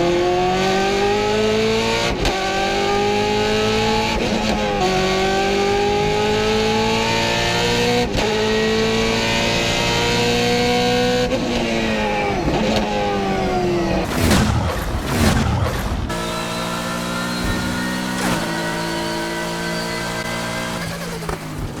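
A BMW M3 GTR revs hard in Need for Speed Heat, its engine climbing through gears in repeated rising sweeps with a brief burst of tire and impact noise midway, loud and continuous with no voices.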